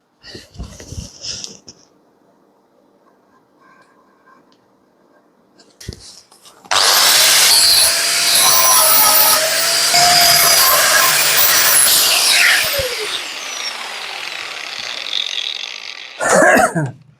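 A loud, harsh angle grinder whines and grinds continuously on metal of a Vespa scooter for several seconds, framed by brief clattering handling noises before and after.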